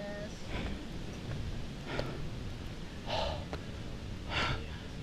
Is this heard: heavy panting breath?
yes